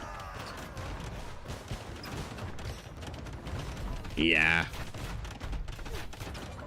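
Bombard cannons and fully upgraded longbowmen fire in a battle in Age of Empires, heard as a dense, continuous clatter of volleys and impacts. A voice speaks briefly over the fighting.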